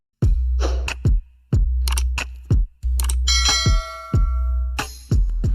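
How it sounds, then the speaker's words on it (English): A notification bell sound effect rings loud and close, striking about six times in a regular rhythm with each ding ringing out briefly before the next. "press this red subscribe button and then you come over here and press this bell."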